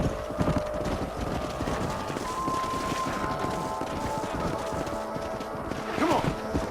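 Horses galloping in Red Dead Redemption, a dense rapid patter of hooves over rumbling wind noise, steady and moderately close throughout.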